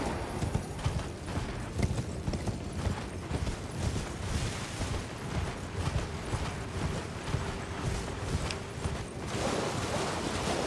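Rhythmic hoofbeats of a galloping horse in Elden Ring clatter steadily throughout, with a dense, noisy game background.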